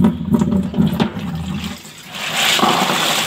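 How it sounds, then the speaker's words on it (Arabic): Clams (jandofli) being washed in water to clear out sand, with close sloshing and splashing that swells into a steady rush of running water in the second half, no voices. "دي الغسيل الصح للجندوفلي."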